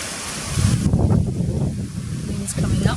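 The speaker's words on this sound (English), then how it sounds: "Wind's coming up." Wind gusts and rumbles across a microphone outdoors in an Australian backyard, a loud broadband roar that eases briefly before building again.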